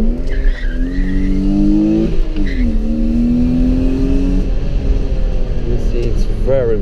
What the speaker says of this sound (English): Very throttle responsive. It's very nice. It's accelerating very fast.